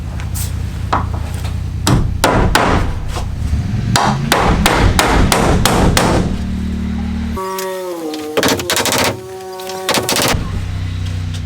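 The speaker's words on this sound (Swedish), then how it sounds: "det är bara att spika dit dem" A hammer drives nails into wooden planks while building a storage shed for a quad bike, loud close blows in quick irregular runs, ending in a ringing series of strikes outdoors.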